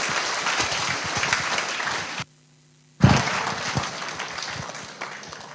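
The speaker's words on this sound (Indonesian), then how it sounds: "sambut dengan gemuruh tepuk tangan yang meriah." Lively audience applause welcomes a speaker at a university lecture event. The hearty clapping is broken by a sudden near-silent gap before it resumes just as strongly.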